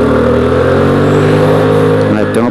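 Dafra Laser scooter running with 10 gram variator rollers and an 18.3 belt, its engine note holding steady under engine braking before a brief shift near the end, loud and close.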